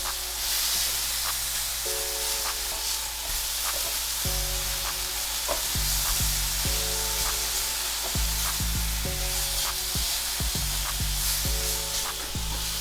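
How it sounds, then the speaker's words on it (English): Shrimp frying in butter in a pan for a low carb shrimp ramen, a continuous close hiss and sizzle broken by repeated clattering scrapes and taps as the pieces are flipped, with no talk. "that's why I'm just flipping these a little bit more so it doesn't get burnt"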